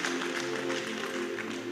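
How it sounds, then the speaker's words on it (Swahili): A church congregation claps in a brief, dense burst of applause, with a low murmur of the crowd underneath. "Piga makofi tu."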